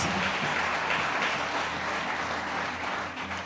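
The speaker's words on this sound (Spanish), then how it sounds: "Give the Lord Jesus a round of applause." A church congregation applauds in praise, a broad sustained roar of clapping from many hands, steady and full for the whole stretch with little else audible.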